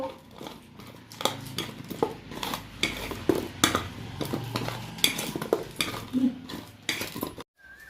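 Spiced guava mash being mixed in a bowl, with repeated scraping clinks and knocks of a utensil against the dish in an irregular rhythm, ending abruptly.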